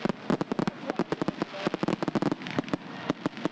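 Fireworks show bursting in rapid, irregular volleys of sharp cracks and pops, some near and loud, others fainter, filling the air continuously with crackling reports.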